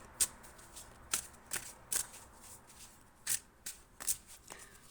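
Tarot cards are shuffled in a series of quick, crisp riffling bursts, close and fairly quiet, with short pauses between them.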